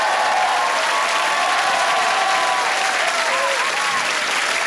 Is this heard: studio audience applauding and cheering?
yes